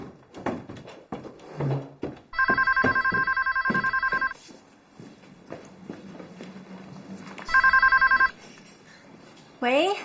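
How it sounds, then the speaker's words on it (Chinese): A landline telephone in a home rings in two bursts of repeated electronic trills, clear and fairly near, with people talking and footsteps around them. "小慧，你的电话。"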